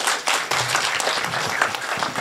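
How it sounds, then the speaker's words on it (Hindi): A small audience of about seven or eight people clapping at a Haryanvi poetry recital, a brief, moderately loud burst of applause without speech. "7-8 लोगों ने ताली बजाई है"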